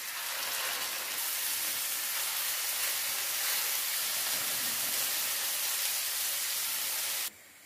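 Minced meat hits a hot tawa with ginger garlic paste for qeema, giving a loud, steady broadband sizzle that holds for about seven seconds before cutting off abruptly, with no talk.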